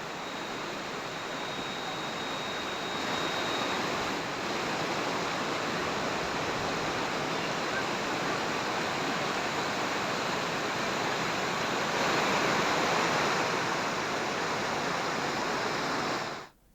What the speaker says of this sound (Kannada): ಕೊಪ್ಪಳದಲ್ಲಿ ಭಾರಿ ಮಳೆಯಾಗಿದ್ದು ರಸ್ತೆಗಳು ನದಿಯಂತಾಗಿವೆ